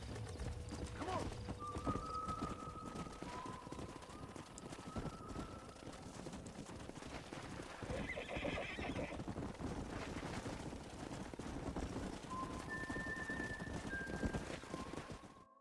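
Horses in the video game Red Dead Redemption produce continuous clip-clop hoofbeats with a whinny among them, set against a busy game soundscape with music.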